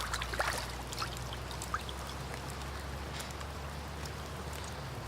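Water washing over a freshly gutted river trout, a steady watery rush with a few splashy pours near the start, no talking.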